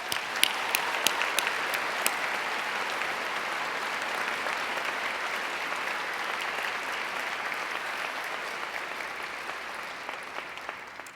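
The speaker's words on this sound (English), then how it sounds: "And while you're clapping," Sustained audience applause at a 2019 university convocation ceremony, a steady dense wash of clapping from a large crowd lasting the whole stretch with no talk, a few sharper claps near the start.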